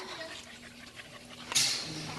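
Dogs pant softly in quick breaths at a shelter in Cozumel, Mexico, faint and close, with a brief sharp noise near the middle.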